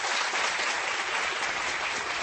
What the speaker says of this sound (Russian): Никита, это тебе аплодисменты.